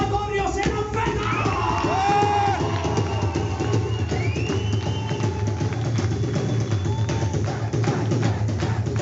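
A crowd at a live band performance in Madrid cheers and yells, with whoops and shouts rising over a steady low murmur, loud and close for several seconds.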